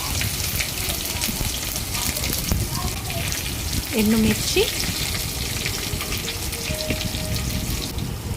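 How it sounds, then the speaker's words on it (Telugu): Mustard seeds, cumin and garlic cloves frying in hot oil in a wok, giving a steady crackling sizzle under a voice speaking briefly. "బాండీలో నూనె వేడైన తర్వాత ఆవాలు, జీలకర్ర, వెల్లుల్లి రెబ్బలు,"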